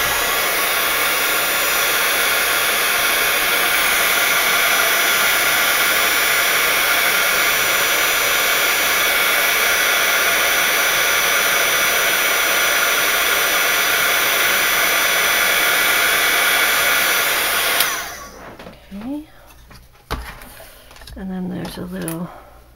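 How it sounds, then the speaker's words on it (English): A heat gun blows steadily and loudly for about eighteen seconds while melting clear embossing powder on a Valentine's card, then cuts off, leaving soft handling noises and brief talk. "I'll get my heat gun."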